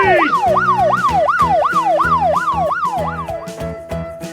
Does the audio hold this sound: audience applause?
no